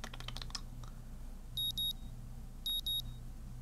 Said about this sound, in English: The sound of alarm pulls me out of fitful slumber and into an unpleasant state of wakefulness.